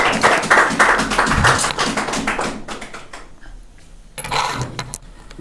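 A church congregation at a Sunday evening service clapping in welcome, a dense burst of many hands that thins and fades, then a short second swell of clapping near the end.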